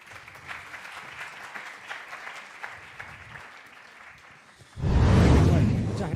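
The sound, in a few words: applause for a lecture speaker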